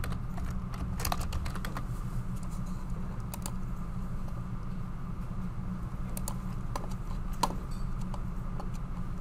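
Typing on a computer keyboard while naming an exploded view in CAD assembly software, a steady patter of light key clicks with a few sharper taps, close and alone over a low hum.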